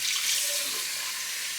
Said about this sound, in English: I'm gonna add cold water